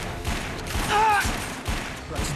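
Rapid gunfire from the video game The Darkness II crackles in a short burst under a player's talk, with brief tonal game sounds in the middle.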